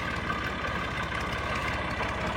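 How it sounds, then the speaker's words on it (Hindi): A tractor hauling a trolley idles steadily nearby, a continuous low diesel rumble with no talking over it. "मेरा वड्डा भाई ट्रैक्टर ट्राली लै ते पहुँच आया"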